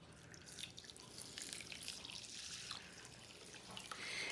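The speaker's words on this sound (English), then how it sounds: "We're going to add 2 cups of chicken broth." Canned chicken broth poured into a pan for baked red beans and rice, a steady trickling splash of liquid that runs on, close up and fairly quiet with no talk over it.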